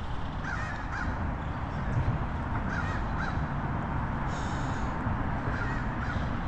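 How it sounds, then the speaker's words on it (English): Crows caw a few times in the distance by the Tug River, short harsh calls spaced out over a steady rumble of outdoor noise. "There are crows over through there."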